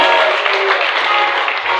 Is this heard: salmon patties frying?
no